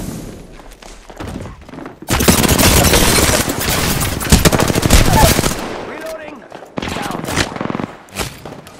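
Sustained automatic gunfire in Apex Legends, loud bursts and rattling volleys with thuds of impacts, stopping and restarting in shorter bursts toward the end, with a voice speaking over the shooting.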